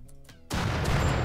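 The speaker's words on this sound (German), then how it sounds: "Ah, natürlich auch mit dem ersten Schuss erwischt" Gunfire in the video game RimWorld, a sudden loud burst of shots that breaks in after a quieter, tonal stretch and keeps going as a dense, rough roar to the end.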